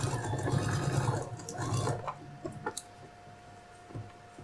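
Sewing machine stitching a fabric phone case, a steady close whirring run for about two seconds, then stopping, followed by a few light clicks and handling taps.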